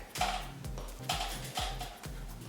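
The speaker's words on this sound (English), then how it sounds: "I'm gonna use a ratchet just so I don't accidentally strip the bolts here" Ratchet turning bolts while fitting TRX X-mounts at home, a series of close, sharp metallic clicks and knocks in an even rhythm of about two per second.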